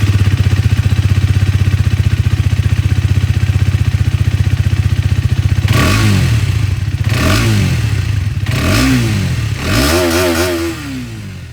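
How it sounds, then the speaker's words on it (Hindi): Hero Xtreme 250R motorcycle exhaust, a 2025 model, idling with a steady close burble, then four sharp throttle blips rising and falling in pitch, the last one longest and highest. "तो ये दोस्तों आप लोगों ने एक्सट्रीम 250R की जो आवाज़ है वो सुन ली"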